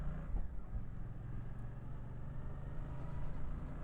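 A 2024 Suzuki GSX-8R motorcycle riding steadily uphill, its engine giving a continuous low drone with a steady hum close by, no voices.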